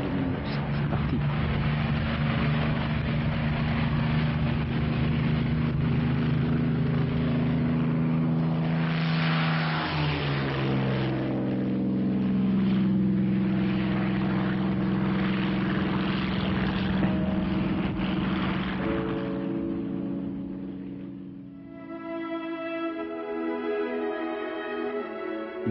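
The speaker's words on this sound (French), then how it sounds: "Allez, les gaz, et on décolle. 2800 tours, 2900, c'est parti." A Supermarine Spitfire's piston engine roars at full throttle for takeoff, revved to about 2900 rpm, a loud steady drone that holds for most of the clip before its pitch shifts and harmonics rise near the end.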